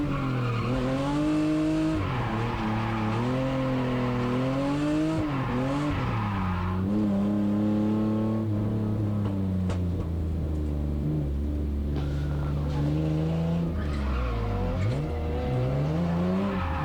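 Stock Hyundai Genesis Coupe drifting, with the engine revving and falling through gear changes while the tires squeal in long sliding wails, loud and sustained throughout.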